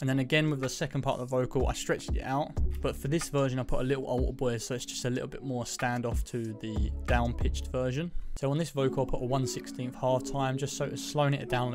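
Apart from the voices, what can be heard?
No everyday noise stands out behind the speech.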